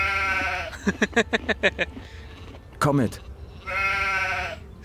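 Sheep in the video game Gothic II bleat in a quick rhythmic series of six or so calls, followed by a short separate burst and then a longer sustained bleat, with someone speaking briefly in between.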